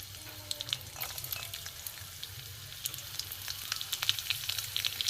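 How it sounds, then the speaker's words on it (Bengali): Chopped garlic frying in hot oil in a kadai, a steady soft sizzle with scattered sharp crackles and pops throughout, no voices. "এখানে কড়া বসিয়ে তেলও গরম হয়ে গেছে, এতে আমি রসুন কুচি দিয়ে দেবো।"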